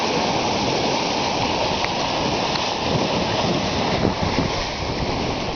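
Bow wave of a sailboat on a solo ocean passage from Suwarrow to American Samoa, heard up forward as a steady, dense roar of rushing water, close and loud throughout with no talk.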